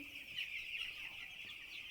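A faint, continuous chorus of young chicks peeps in a poultry shed, high thin cheeping blending into a steady wash with no single bird standing out.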